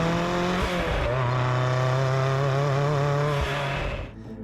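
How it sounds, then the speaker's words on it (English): Turbocharged and supercharged 550-horsepower four-cylinder engine in a Lancia-inspired restomod, heard close as it pulls hard with a rising, wavering engine tone, revs shifting before it drops off at the end. "It's a turbocharged and supercharged four-cylinder that develops 550 horsepower"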